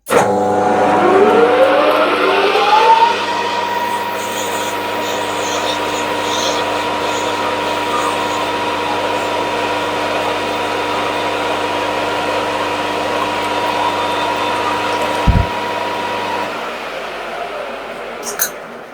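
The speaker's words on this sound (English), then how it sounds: "we've just got to clean that little bit of burr off that you can see forming on the workpiece there" A lathe runs as it machines the burr off a metal workpiece, giving a steady, loud mechanical hum with a tonal whine. A brief rising pitch comes near the start, and the sound ends with a sharp click.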